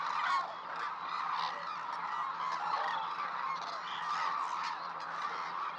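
A dense chorus of wintering cranes calling together at Izumi, Kagoshima, a continuous mass of overlapping honking cries heard from a moderate distance.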